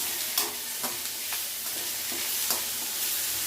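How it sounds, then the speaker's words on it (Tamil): Cabbage, carrot, beans and capsicum sautéing in a pan for fried rice, a steady bright sizzle with several sharp spatula scrapes and stirs at irregular intervals, close and alone without any talk. "இப்போ காயெல்லாம் லைட்டாக வதங்கிடுச்சு"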